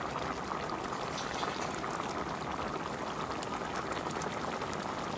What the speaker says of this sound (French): je mets le riz dans le curry pois pour faire le zambocal